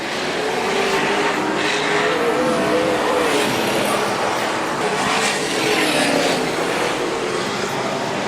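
Speedway race cars roar around a dirt track, engines whining loud and continuous with pitch rising and falling as they pass, over crowd-like background rumble.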